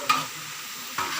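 Chunks of adobo meat stir in a hot pan with a constant close sizzle, and two sharp scrapes of the spoon mark the stirring, one near the start and one near the end; no voices.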